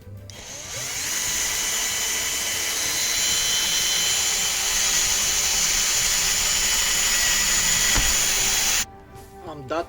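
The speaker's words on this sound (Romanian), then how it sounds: "Am dat gaura în perete, am folosit o carotă destul de mare." A large-diameter core drill bores a hole through a house wall for air conditioner piping, grinding steadily and loudly for about eight seconds before stopping abruptly, followed by a few clicks and handling noises.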